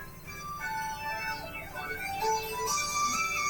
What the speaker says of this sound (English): I don't know if you guys can hear my music right now or not.